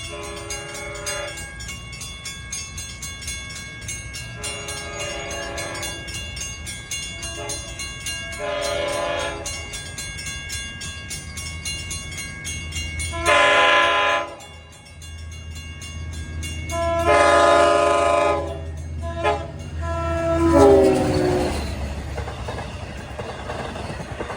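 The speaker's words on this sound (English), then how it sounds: "That's got one of the better K5LL horns." A Long Island Rail Road DE30AC diesel locomotive with a K5LL horn sounds a series of long, loud chord blasts, growing nearer, over the rumble of a passing train.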